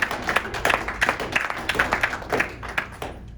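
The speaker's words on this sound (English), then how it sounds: "Let's give him a round of applause." Scattered applause from a small audience at a talk on regenerative farming, irregular claps close by fading out after a few seconds.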